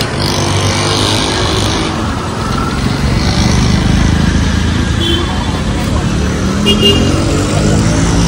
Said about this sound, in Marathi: येतोय तो गाडी घेऊन